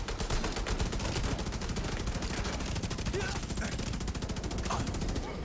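An assault rifle with a 120-round magazine fires a long sustained burst in The Division 2, a rapid, steady stream of shots that never breaks.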